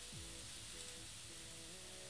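Maultaschen browning in a frying pan give a faint, steady sizzle under a low background hum, continuous and fairly distant.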